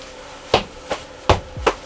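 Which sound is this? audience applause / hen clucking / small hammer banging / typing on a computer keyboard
small hammer banging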